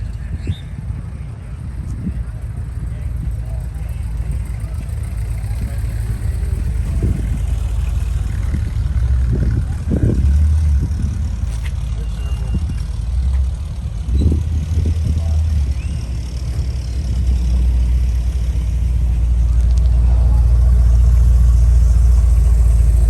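A Ford Mach 1 muscle car pulls into an outdoor cruise-in car show in Midwest City, Oklahoma, its low engine rumble building steadily and growing louder toward the end, mixed with wind noise and nearby voices.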